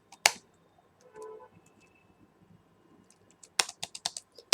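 A computer keyboard clatters with a sharp key hit, a quiet pause, then a quick burst of clicky typing strokes ending in firm presses, close and alone.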